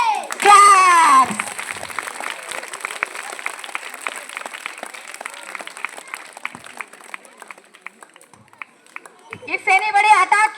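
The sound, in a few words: audience clapping after kids' karate performance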